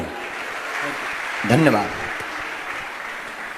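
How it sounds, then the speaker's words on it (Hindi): An audience claps in a steady, soft wash behind a speaker at a religious talk, continuing faintly throughout while he briefly says a word in the middle. "एक बार ताली बजाइए आपके लिए"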